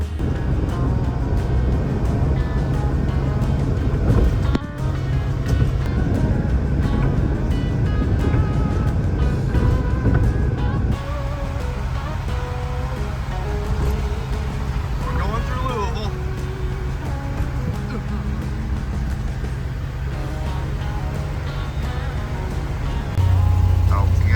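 A Ford Pinto engine runs while the car is driven, a steady low rumble throughout with a shift in tone partway through, under ongoing talk from the driver.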